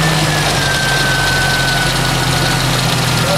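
A car engine fitted with an HHO system idles steadily up close, a continuous low rumble with a faint whine, no voices.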